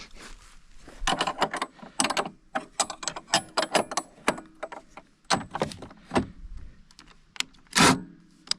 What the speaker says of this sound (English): Tighten up your bottom bolt of your shock now.